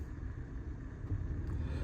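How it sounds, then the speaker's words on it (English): Steady low rumble from inside a 2012 Nissan Micra 1.2 Acenta CVT automatic with the air conditioning running, a continuous close hum and whoosh with no speech. "my air conditioning, which I have got on, is blowing ice cold"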